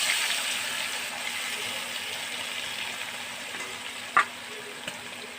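Boal fish pieces frying in a pan with bay leaf and cumin, a steady soft sizzle with a couple of brief utensil clicks.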